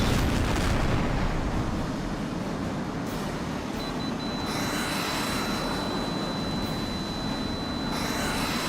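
Fighter-bomber ground attack planes roar past at high speed over a refinery in the H.A.W.X. video game, a steady loud jet rumble with broad noise and a thin high whine, no voices.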